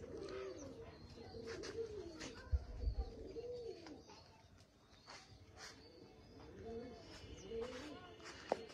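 A pigeon coos in repeated soft, throaty phrases close by near its home loft, with faint chirps and light rustling around it and occasional small knocks.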